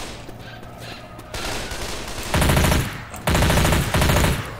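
MP5 submachine gun fire in the video game Left 4 Dead 2, loud rapid automatic bursts in several strings with short gaps between them, dense and close with no talking.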